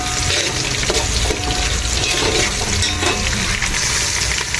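Onions fry in a pan for mandakki susla, giving a steady, dense sizzle that stays loud and close throughout with no pauses and no speech.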